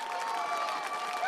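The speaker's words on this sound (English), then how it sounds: "I'm here with a very loud crowd" A loud crowd cheers and applauds at a college rugby national championship, a steady wash of voices and clapping with no single voice standing out, heard from within the stands.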